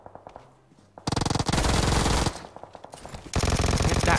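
Bursts of automatic gunfire in the mobile battle royale PUBG Mobile, a short burst and then two long, loud, rapid sustained volleys separated by a brief pause.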